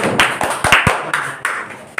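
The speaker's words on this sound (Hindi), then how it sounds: "ताली बजाइएगा।" Students clapping in a coaching class, a sparse, uneven handful of claps rather than full applause, heard close with gaps between bursts.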